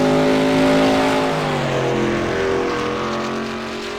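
Race car in a racing video game pulling away after a win, its engine a loud steady drone with harmonics sliding up through gear changes, the level easing down slightly toward the end.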